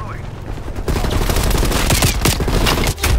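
Gunfire sprays at the player in an online shooter match, a dense, continuous burst of rapid automatic shots and impacts lasting several seconds, loud and close.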